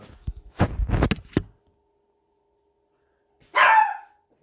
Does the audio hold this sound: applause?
no